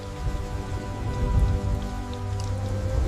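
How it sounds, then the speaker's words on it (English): Steady rain patters on surfaces in a continuous, even wash, with a faint low rumble of distant thunder underneath and no voices. "The rain washes the blood away"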